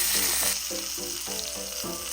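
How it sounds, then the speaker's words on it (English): A ribeye steak sears in a hot pan, a steady loud sizzle and crackle running throughout, with no talk over it. "I'm going to go ahead and flip the steak. And I'll sear this side for another minute."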